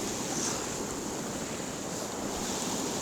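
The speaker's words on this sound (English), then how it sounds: "Waterfall with the river splitting into two." A winter river waterfall where the stream splits in two gives a constant, even rushing roar, close and unbroken, with no voices.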